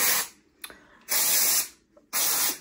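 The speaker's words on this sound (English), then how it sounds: "maybe I'll spray some dry shampoo" Dry shampoo sprayed onto hair from an aerosol can in three quick bursts, each a sharp close hiss lasting about half a second, separated by short pauses with faint handling noises.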